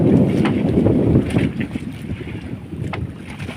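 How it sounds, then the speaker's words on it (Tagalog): Strong wind roars and buffets the microphone in heavy gusts, loudest at first then easing, with no one speaking. "Baling dagko aning hangin"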